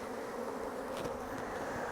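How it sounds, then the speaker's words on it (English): Steady, dense buzzing of many honey bees close by, a continuous drone with no voices. "There's still some bees in here"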